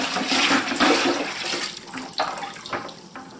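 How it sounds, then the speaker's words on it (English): Water and ham-curing brine are poured into a bucket and mixed, making a loud rushing, splashing pour that tapers into gurgles and sloshing splashes. "So I'm going to now put this in with the water that I have in the bucket and get that all mixed up."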